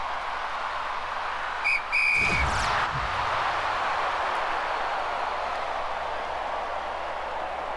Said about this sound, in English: she had to wait until after the whistle blew